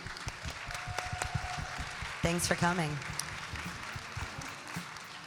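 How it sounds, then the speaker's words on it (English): Applause from a small audience, scattered claps under a short spoken line, with a brief whistle-like tone partway through. "I want to give a round of applause to these amazing women"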